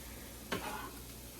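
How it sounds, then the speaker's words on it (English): Half an onion sautéing in a pan, with a quick stir that scrapes briefly before a soft, low sizzle settles in, quiet and close. "We're gonna go ahead and give this a quick little saute."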